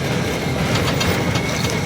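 A tram rumbles along at Coco Cay in the Bahamas, a steady, loud rolling roar with faint rattling, close by and continuous throughout.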